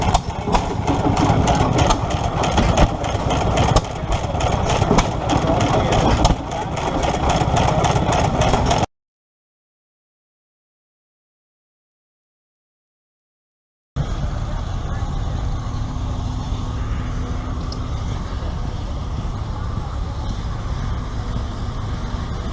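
A half-scale Case 65 steam traction engine runs steadily at a threshing show, with a loud, continuous mechanical drone, a stretch of silence midway, then the running sound resumes.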